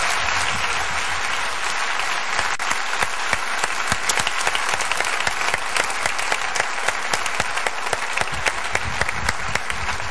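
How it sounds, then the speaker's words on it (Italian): Sustained, loud applause from a theatre audience at the end of the comedy show "Un tè per tre" with Biagio Izzo, a thick wash of many hands with occasional sharper individual claps standing out. "quando la sera ti arriva questo applauso"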